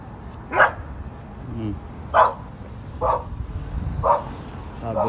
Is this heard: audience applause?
no